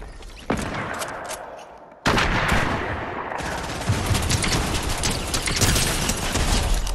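Rapid video-game gunfire from a blue vs red rumble match, a dense, loud burst of automatic shots that kicks in sharply at about half a second and again at two seconds, then continues steadily to the end.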